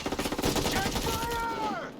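Rapid automatic gunfire in the shooter game Tom Clancy's Ghost Recon Breakpoint, a fast rattling burst that runs into a denser volley with shouted voices mixed in, close and fairly loud.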